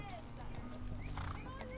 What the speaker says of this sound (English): their sturdy horses scoot down the steep sagebrush hillside